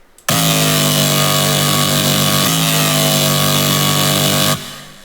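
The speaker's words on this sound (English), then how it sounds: "Distortion is where this really gets cool, so let me turn it on real quick." A sustained, buzzy Serum synth bass note with gritty tube-style distortion, drive all the way up, starting abruptly, holding steady for about four seconds, then cutting off.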